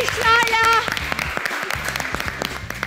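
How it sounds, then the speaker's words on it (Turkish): Studio audience applauding on a Turkish daytime cooking competition show as a bride wins five gold bangles, clapping rising over musical tones and a host's talk, then continuing as scattered claps under ongoing speech. "Alkışlarla."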